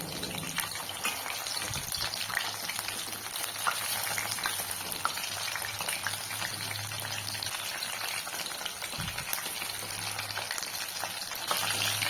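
Chicken lollipops frying in hot oil: a continuous, even crackle and sizzle close by, with a couple of soft bumps as the pieces are moved, and no talking.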